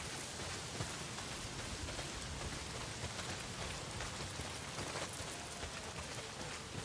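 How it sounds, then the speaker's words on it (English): Steady rain falls in the video game Days Gone: a dense, even hiss of downpour at low level with no breaks or voices. "not if it's pissing down rain"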